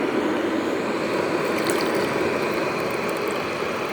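Water being poured while preparing a boiled herbal drink in a home kitchen, a continuous close splashing stream with no pauses and no talk.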